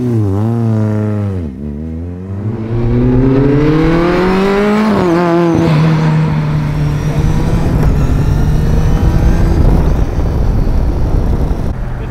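A supercharged Caterham 620R lightweight sports car accelerates hard, its engine note rising through the revs, dropping sharply at a gearshift, then climbing again before settling into a loud, rough drone.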